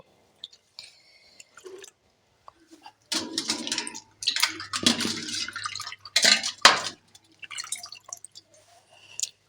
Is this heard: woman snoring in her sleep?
no